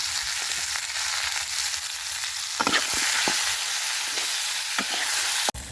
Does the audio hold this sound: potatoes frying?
yes